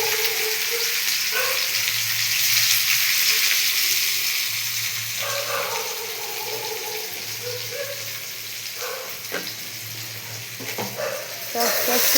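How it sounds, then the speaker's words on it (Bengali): Chopped onion is added to panch phoron spices frying in oil, giving a continuous loud hiss and sizzle with occasional stirring knocks, while a person talks softly underneath. "মশলাটা একটু ভাজা হয়ে গেছে, এর মধ্যে দিয়ে দিলাম আমি পেঁয়াজ কুচি"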